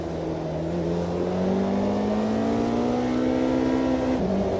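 A Porsche 918 driven on a California highway in Automobilista 2 holds a steady, rising engine drone as it accelerates smoothly, then dips briefly as if shifting, loud and continuous with no voices.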